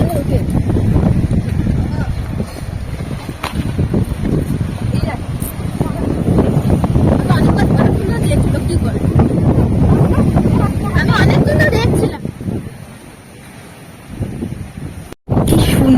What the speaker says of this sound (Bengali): সাগরের ভেতরটাই ঢুকেছি, কি সুন্দর হাওয়া হচ্ছে এখানটায়